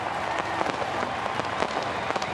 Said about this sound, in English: he lights the fireworks early in Chicago this evening